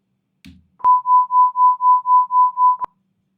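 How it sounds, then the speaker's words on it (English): A steady synthesized sine tone pulses in smooth, evenly spaced swells, about eight regular lobes over two seconds, with amplitude modulation from SuperCollider, clean and alone after a short soft noise. "So I want you to listen to this amplitude modulation."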